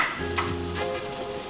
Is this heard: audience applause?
no